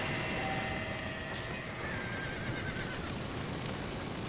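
A horse whinnies in a video game set in the Old West, a short, high neigh over a dense, steady background rumble and clip-clop, fairly faint.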